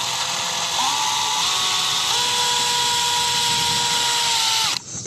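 A power drill drives the supplied screws to mount an outdoor barn flood light: a steady loud whine that shifts pitch as the screw seats, then stops abruptly near the end.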